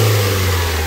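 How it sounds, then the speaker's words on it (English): Engine of a 1996 Mitsubishi Mirage Asti ZR idling steadily and fairly quietly during coolant bleeding after cambelt and water pump work, a close, even hum with no voices. "I love how quiet this engine sounds now."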